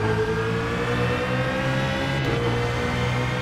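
A BMW Z4 GT3 race car engine in iRacing drones loudly and steadily at high revs on the tall Daytona gearing, a constant sustained tone with a slight pitch shift partway through and no voices.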